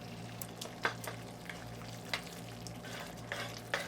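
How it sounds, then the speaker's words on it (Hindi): Yogurt frying with spices over a high flame for paneer masala: a soft, steady sizzle with scattered light stirring clicks, close and fairly quiet. "इसको अच्छी तरह से मसालों के साथ दही को भूनेंगे"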